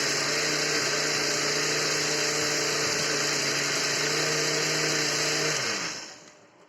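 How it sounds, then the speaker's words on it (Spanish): A kitchen blender whirs loudly and steadily, blending totumo, aloe vera and honey into a syrup, its motor holding one high, even whine before it winds down and cuts off near the end. "La dejamos más o menos un minuto y medio, que la licuadora trabaje con estos ingredientes."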